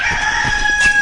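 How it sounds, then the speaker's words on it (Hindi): A chicken from an animated Hindi children's story clucks and crows in short bursts over a steady musical background, close and fairly loud, with no talking. "थोड़ा आगे चलने पर उनको एक उनकी दोस्त पिंकी मुर्गी मिलती है।"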